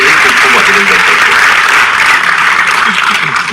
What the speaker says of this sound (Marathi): त्या कमिटीसाठीही आपण टाळ्या वाजवा.